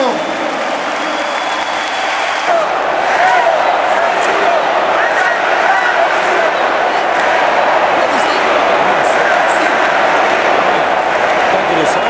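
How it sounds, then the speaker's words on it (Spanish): A large audience at an event with Bolivian president Evo Morales in Leganés breaks into loud, sustained applause, a dense wash of clapping that stays steady and close throughout. "Fuerte el aplauso."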